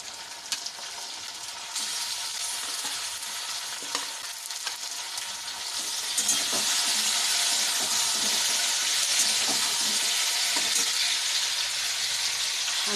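Marinated chicken coated in turmeric, black pepper, salt and mustard oil hits a hot pan, breaking into a loud, steady broadband sizzle that swells and stays dense with a few scraping stirs, no voices over it.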